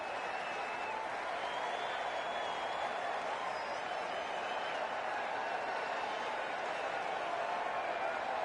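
Stadium crowd noise in a cricket video game, a steady dense roar of many voices at constant loudness with faint whistles drifting above it.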